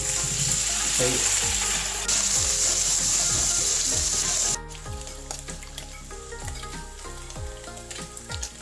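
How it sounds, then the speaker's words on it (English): Paneer frying in a spoonful of ghee in a pan, loud dense sizzling for the first half that drops suddenly to a quieter crackle, with repeated clicking, ratchet-like ticks running underneath, no voices. "Put 1 teaspoon ghee into the pan. Now put paneer."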